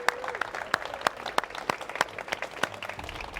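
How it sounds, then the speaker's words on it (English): A small group claps for themselves, sparse, distinct hand claps in a loose uneven rhythm, fairly quiet and close, with some background murmur. "Give yourself a clap."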